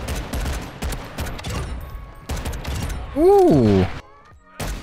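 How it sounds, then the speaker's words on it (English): Gunfire in Modern Warfare 2 comes in short bursts of rapid shots separated by pauses, with a brief whooshing game effect near the end and a voice exclaiming once. "this guy has no idea I'm even shooting at him"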